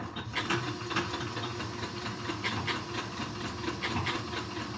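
An overlock serger sewing a blind hem at a short stitch length, giving a fast, even mechanical whirring with rapid rhythmic pulses, close and fairly quiet throughout.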